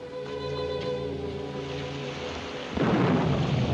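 A rain squall with a low rumble of thunder rolls over steady tonal hum, then a sudden burst of rain hiss takes over, full and close.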